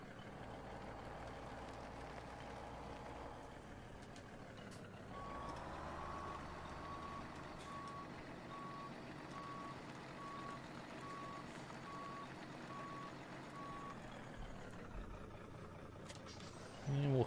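A truck backing a trailer in the video game Farming Simulator 17, its reversing alarm beeping in a steady evenly spaced series over a low engine hum, moderately loud, with a voice talking briefly.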